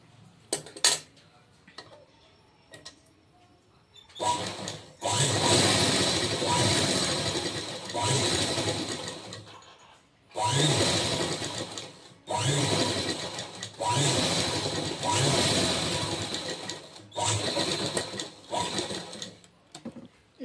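Sewing machine running press stitching along a lining strip on a princess-cut blouse, whirring in several long runs of a few seconds each with short pauses between, close and loud.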